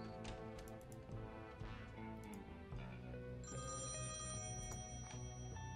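Telephone ringing in the point-and-click game Thimbleweed Park, a repeating electronic bell tone with tight clustered rings over a steady background hum, faint overall and continuing for several seconds.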